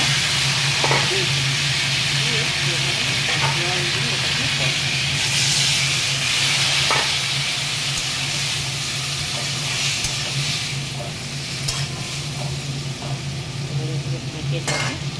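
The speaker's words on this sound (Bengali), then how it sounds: "ঢেকে ঢেকে ভালো করে কষিয়ে নিই।" Tomato and ground spices (cumin, turmeric, chili) with salt are sautéed in a pan, giving a continuous loud sizzle and hiss with occasional scraping stirs, steady throughout and without speech.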